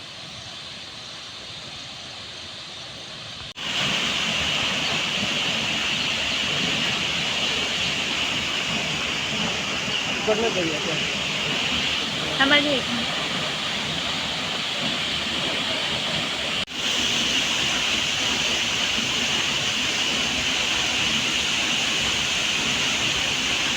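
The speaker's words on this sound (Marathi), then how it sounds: "हा प्रसिद्ध धबधबा आहे वेरूळ मधला." A steady, broad roar of falling water from the Sita Nahani waterfall at the Verul (Ellora) caves fills the scene from a few seconds in, with a brief voice speaking faintly over it midway.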